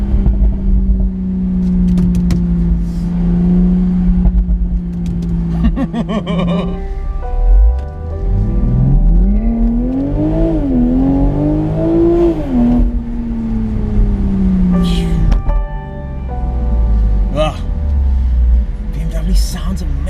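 2019 BMW Z4 M40i driven around Cape Town, its exhaust revving loud and close, climbing and falling in pitch with burbling pops, while someone talks and chuckles at moments.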